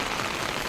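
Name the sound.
heavy rain falling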